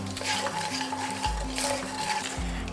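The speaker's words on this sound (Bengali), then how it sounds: "কালো জিরেটা যখন ফাটতে শুরু করেছে ঠিক সেই সময় দিয়ে দিচ্ছি 2টো কাঁচা লঙ্কা, আর দিয়ে দিচ্ছি 2টো তেজপাতা" Green chillies and two bay leaves hit hot oil with crackling nigella seeds, making a steady close sizzle with stirring scrapes over low tonal background sounds.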